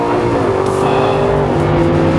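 An Aston Martin Vantage S revs hard on a race track, its engine note loud and close, climbing steadily in pitch as the car accelerates.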